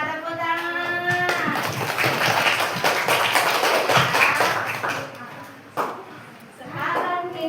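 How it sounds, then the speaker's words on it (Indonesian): Schoolchildren in a third-grade classroom clap their hands together in a lively burst of applause that overlaps with the voices of the children and the teacher, then fades into quieter talk. "Tepuk tangan."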